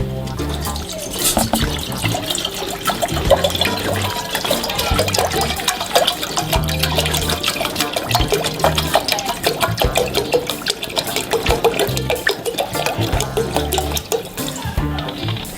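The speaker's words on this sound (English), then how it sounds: "I'm gonna add 1 liter of water." A liter of water pours steadily into a pot on a stove for making ginger beer, a continuous close splashing and gurgling stream that runs loud and even for about fifteen seconds.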